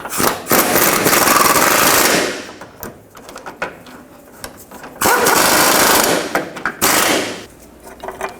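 Loud, rapid rattling bursts from a power tool tightening engine mount bolts on a Chevy Traverse run for a couple of seconds each, twice, with shorter clattering spurts and quieter gaps in between.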